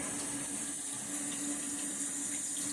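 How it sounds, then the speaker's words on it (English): Tap water running steadily while raw chicken is rinsed in the kitchen for chicken Alfredo, a constant close splashing hiss with no pauses. "Get these rinsed off."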